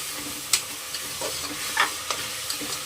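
Carrots, beans and potatoes frying in a pan, a soft steady sizzle broken by a few sharp scrapes and clinks of a spoon stirring the vegetables, close and moderately loud with no talking.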